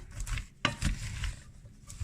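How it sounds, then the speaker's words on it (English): Vegetables with carrots, red bell pepper and spices are stirred in a pot, giving soft scraping and patter with a faint sizzle underneath and one sharp knock of the utensil against the pot. "and then you just mix them all"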